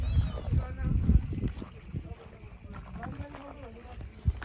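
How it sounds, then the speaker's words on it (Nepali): A horse drinking water on a trail in Mustang, Nepal, shuffles its hooves in a few uneven, close clops, with people's voices talking in the background. "होइन घोडाले पानी खाँदैछ है।"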